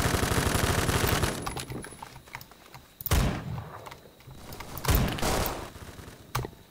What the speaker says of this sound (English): Maybe I shouldn't just shoot shotgun over here.